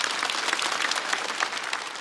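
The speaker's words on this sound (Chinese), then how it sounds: "再次掌声送给哈曹" A theater audience applauds at the end of a stand-up comedy set, with steady, dense clapping that runs without a break.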